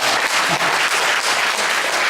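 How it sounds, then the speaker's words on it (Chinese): A church congregation applauds, loud dense clapping filling the room evenly and continuously from start to finish. "感谢主，我们给他们拍手鼓励一下。"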